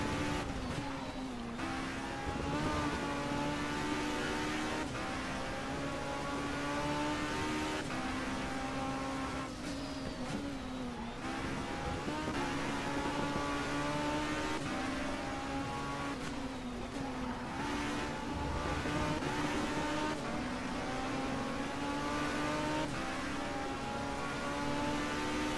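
A race car in the Race07 racing game at Brands Hatch drives over grass: a continuous, loud engine drone whose pitch rises and falls with shifts and revs, steady throughout.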